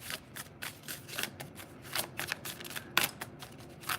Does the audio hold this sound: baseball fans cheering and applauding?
no